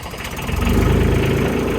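An engine cranks and catches, then settles into a steady, loud, close idle with a low rumbling throb.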